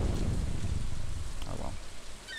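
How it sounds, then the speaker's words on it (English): Steady rain patters in Stardew Valley while the character sits on a dock by the ocean, a continuous soft hiss of drops that thins slightly near the end. "Pitter-patter of the rain."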